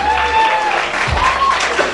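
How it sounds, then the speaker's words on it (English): An audience at a youth icon grand finale applauds a finalist with a steady burst of clapping, fairly close, alongside tonal hum from the event's sound system. "a big round of applause for Tarun as well"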